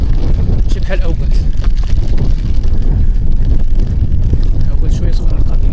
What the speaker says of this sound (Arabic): كاين فوق كاين الريح والهواء زوين بارد